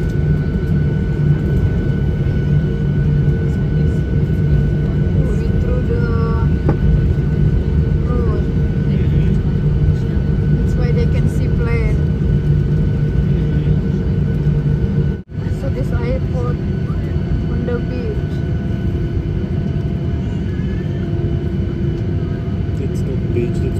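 Steady low rumble of an airliner's engines as it taxis slowly in the queue before takeoff, heard from inside the cabin, with faint voices and hum throughout.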